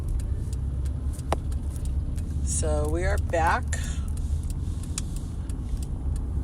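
Steady low road rumble of a car in motion on a public road, constant throughout, with a person talking briefly over it and a few small clicks and rattles inside the cabin.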